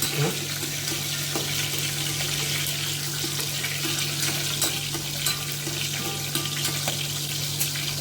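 Water is poured into a hot cooking pan while chicken noodles are made, producing a steady rushing hiss and sizzle up close, with a low constant hum underneath.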